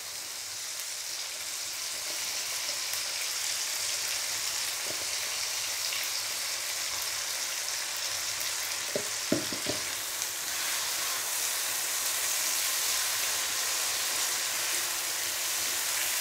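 Ground chili sizzles steadily as it fries in a pan for a spicy sambalado with petai and eggplant, joined by a few soft scrapes and taps of stirring near the middle. No one speaks.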